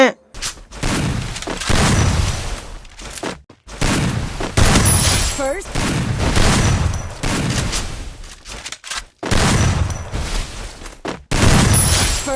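Gunfire in a shooting video game: loud bursts of rapid shots in repeated volleys separated by brief pauses, with someone talking over the action.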